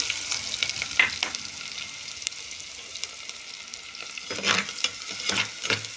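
Onion sautéing in oil with mustard seeds and curry leaves, a continuous sizzle broken by scraping stirs of a spatula in the pan, with louder bursts near the end, no voices.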